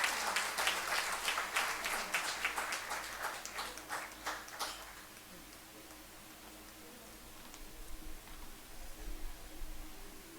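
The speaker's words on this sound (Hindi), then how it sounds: "उनके लिए आपकी ताली तो बनती है साथियों।" Audience applause at a Hindi-language stage event welcoming a guest: dense, loud clapping for about four and a half seconds, then it stops abruptly, leaving quiet room noise with faint scattered sounds.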